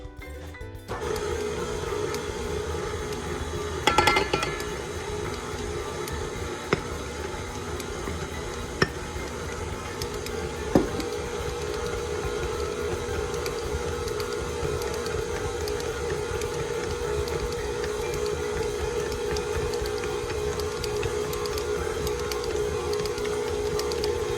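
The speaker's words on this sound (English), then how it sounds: "I knead my dough with my dough hook and my stand mixer" Stand mixer kneading soft bread dough with a dough hook, a steady loud motor whine and hum running without a break, with a few faint knocks and thumps from the bowl.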